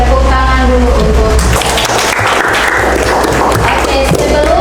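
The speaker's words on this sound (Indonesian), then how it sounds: "Tepuk tangan dulu untuk" Classroom applause breaks out as students clap together after a group's math presentation, a dense steady patter of many hands filling the room, with a few voices over it near the start.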